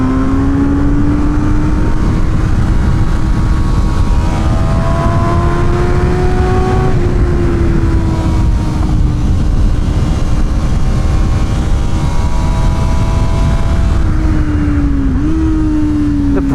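Honda CB650R motorcycle engine revving hard on a bumpy race track, a loud continuous near drone whose pitch climbs and dips with throttle through gear changes, no talk over it.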